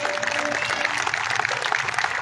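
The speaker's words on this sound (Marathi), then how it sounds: "पण आता एकदा जोरदार टाळ्या होऊन जाऊ" Dense, steady applause from an audience at the Shri Bhagwant Mahotsav festival, clapping for the orchestra; a continuous wash of many hands with no pauses.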